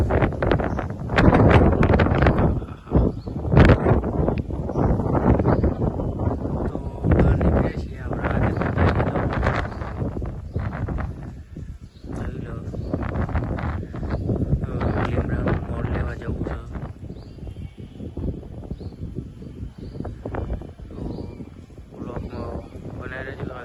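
Cool morning wind gusts buffet the microphone in loud, uneven rumbling bursts that continue throughout, with a person talking at times.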